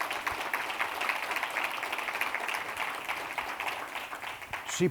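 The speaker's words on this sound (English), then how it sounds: "let's give Umayma another round of applause for all that she's done" An audience at an annual general meeting gives Umayma a round of applause, with soft, steady clapping throughout and a brief louder knock near the end.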